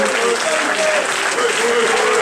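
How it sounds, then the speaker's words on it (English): An audience at a school event claps loudly and steadily in dense, sustained applause throughout, close and filling the room, with a voice faintly heard beneath. "So please an applause."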